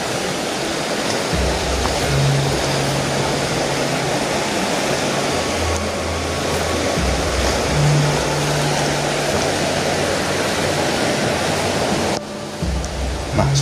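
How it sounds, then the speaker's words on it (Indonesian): The Tuntang River rushes steadily close by, a loud continuous broadband wash of flowing water with a low engine-like hum drifting underneath. "dikelilingi aliran Sungai Tuntang seperti di depan kita ini ya kawan ya"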